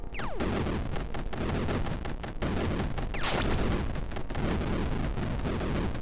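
Loud, continuous gunfire in the indie game Dungeon Souls: a dense barrage of overlapping shots and blasts that never lets up, with no talking.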